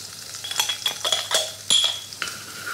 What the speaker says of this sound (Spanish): Añadimos un poquito de ajo picado. Vamos a añadir un poquito de mantequilla. y también chalota picada.